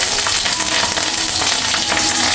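Bay leaf, green chili and ginger sizzle steadily in hot oil in a kadai, a dense continuous frying hiss with slight stirring crackle throughout.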